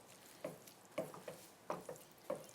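Butter is stirred into a blueberry sauce in a pan, giving soft, wet, scraping strokes in an irregular rhythm of about six short pulses, faint and close with no talking.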